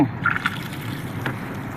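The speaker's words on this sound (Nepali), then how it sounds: "सफा गर्नको लागि चाहिँ यो पानी खोलिन्छ।" Water splashes and trickles briefly, close by, as if spilling from a tap into a basin.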